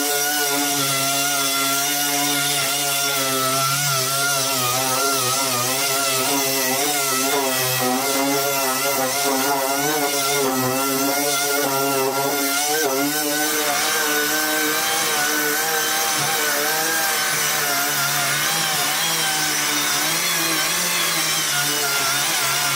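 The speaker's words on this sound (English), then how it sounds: "so that I can start sanding the entire car right now" A dual-action orbital sander works over the painted panels of a BMW E39, running as a continuous, fairly loud buzzing whir with shifting pitch wobble throughout, with no one talking.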